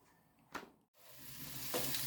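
Apple quarters frying in melted butter in a pan, a soft hiss that swells into a steady sizzle after a brief pause, with a clack of a utensil stirring early on.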